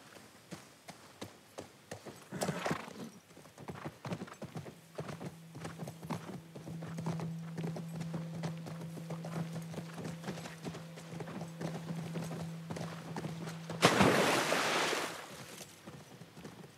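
Steady clip-clop of horse hooves at a trot in The Last of Us Part II, with a long tonal drone and a burst of noise near the end; a horse neighs briefly.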